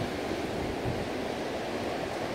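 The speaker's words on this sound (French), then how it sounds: "Je crois que je pourrais vivre à l'année avec ce bruit-là de vagues." Ocean waves break on a beach as a continuous, even roar of surf with no pauses, fairly close and alone with no voices.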